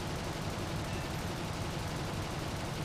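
Rapid, continuous cannon fire from a Bf109 F-4 fighter in the War Thunder flight game, a dense sustained mechanical rattle mixed with engine roar, fairly loud and steady for the whole stretch.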